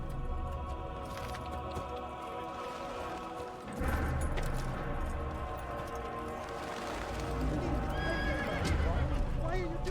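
Horse whinnying and hoofbeats galloping in the Assassin's Creed video game, a loud neigh over steady clip-clop with game ambience, while voices talk throughout.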